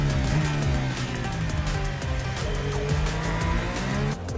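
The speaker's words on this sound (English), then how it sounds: "He's down on the throttle. He's going away." A Formula 1 car at Monaco roars loudly under hard throttle behind the safety car, its high engine note climbing steadily through gear changes for several seconds.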